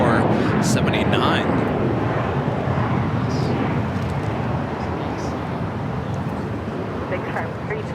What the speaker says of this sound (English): There in the distance is Latam Airlines in the Elan livery on the 767-300ER heading to Lima, Peru